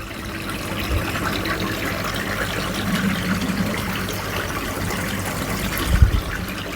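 Water trickles steadily into a 3000 gallon koi pond outdoors, a continuous soft splashing babble with a low thump near the end.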